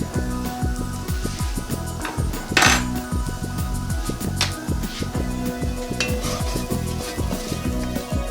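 Hot New Mexico chili powder toasts in oil in a hot pan, a steady, loud sizzle broken by frequent spoon scrapes and clinks against the pan in a fast, busy rhythm.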